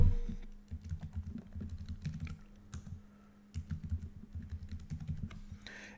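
Keys on a computer keyboard clatter in quick, close bursts of light taps, with a short pause midway before the typing resumes.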